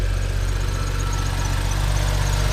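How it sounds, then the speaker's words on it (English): A BMW 135i engine, fitted with a VRSF charge pipe, idles close up, a loud, steady low-pitched hum with faint knocking pulses throughout and no break. "Let's go ahead and start the car up and make sure everything sounds normal."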